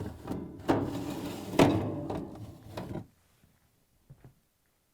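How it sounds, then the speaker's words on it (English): The lower drawer of an LG/Kenmore freezer is pulled out and lifted free with several sharp knocks and scraping rattles over about three seconds. Faint taps follow before the sound settles into near silence. "Next, pull out and remove the lower drawer."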